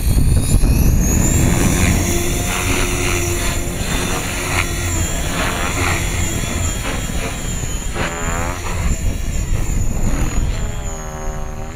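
A Trex 550 RC helicopter, flying again after a crash, spools up and lifts off in a light wind. Its loud, steady rotor and motor whine is close and fills the clip from start to finish.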